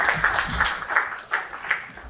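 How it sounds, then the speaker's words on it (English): Guests at a Leo club installation dinner for cabinet, district and LEO officers give a modest round of applause in uneven swells of clapping, with a short lull partway through. "Give a big round of applause."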